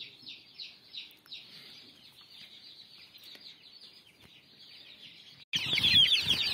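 Laying hens on a small poultry farm cluck in a quick, repeated series of calls, moderately near, before a sudden burst of louder noise takes over near the end.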